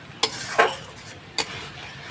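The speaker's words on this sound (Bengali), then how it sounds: "মশলাটা ভালো করে আগে কষিয়ে নিই" Spices for a Bengali fish curry are sautéed in a pan, heard as three quick scraping stirs over a faint, low sizzle in a quiet kitchen.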